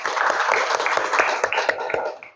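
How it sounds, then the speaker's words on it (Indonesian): A classroom of students claps for a classmate, a dense burst of rapid overlapping claps at close range that fades out after a couple of seconds. "Beri tepuk tangan untuk Al dulu."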